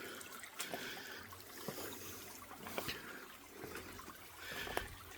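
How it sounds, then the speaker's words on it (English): Water trickling down a creek hillside, a faint, quiet dribbling and gurgling with occasional soft splashes, steady throughout. "kind of nice, quiet, water trickling down the hill"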